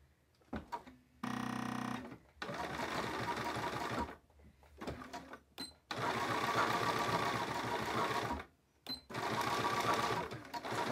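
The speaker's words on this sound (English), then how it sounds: "I'm just going to sew this elastic on using a normal zigzag stitch." A sewing machine runs zigzag stitches to attach elastic onto a T-shirt using a Schmetz size 90/14 needle, with a quick whirring burst followed by longer stretches of steady close motor hum and stitching, separated by brief stops.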